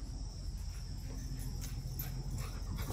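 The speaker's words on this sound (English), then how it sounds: "Don't mind my dog. She's out here running around like crazy." A dog moves about outdoors, making faint canine sounds against a steady backdrop of chirping crickets and insects; there is no talking.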